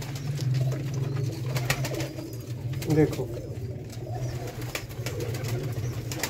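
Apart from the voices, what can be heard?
Sialkoti rooftop pigeons cooing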